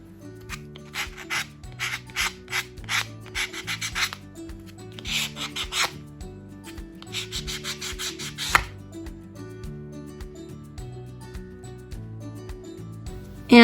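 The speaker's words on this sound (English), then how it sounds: "I've also got a nail sanding block that I'm going to kind of smooth out the edge of" A nail sanding block rubs along the edge of a resin sticker in rhythmic bursts of close, scratchy strokes, grouped in quick runs with short pauses between them, over faint background music.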